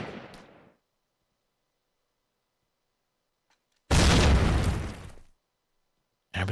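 A grenade explodes in a Call of Duty match, a loud broadband burst lasting over a second after near silence, with a shorter pop at the start and another blast beginning at the end.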